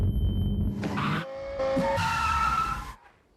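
Kia Forte drift car skidding with tires squealing loudly, a high-pitched screech over engine roar that shifts pitch mid-slide, then cuts off and fades to quiet.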